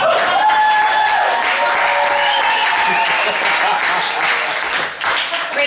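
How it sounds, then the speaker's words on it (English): A comedy show audience bursts into loud, sustained applause and cheering that fills the whole stretch, with claps and whoops blending into a dense roar. "Let's have a round of applause for my dipshit boyfriend"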